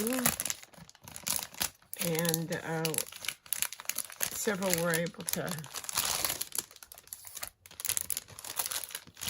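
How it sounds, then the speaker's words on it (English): Plastic wrapper crinkles and rustles around a Crafter's Companion craft template set, a close, busy crackling that runs through the clip under a person talking. "I'm sorry for the noise. I probably should have taken this out of the wrapper"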